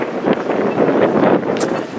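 Wind blows hard across the microphone outdoors near a city hall in Montréal, a steady broadband roar with gusty swells lasting the whole stretch and no talk over it.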